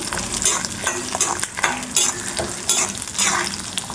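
Small shallots sautéing in a pan for a red snapper fish curry, a close, crackling sizzle broken by repeated scraping stirs of a utensil, with no talking.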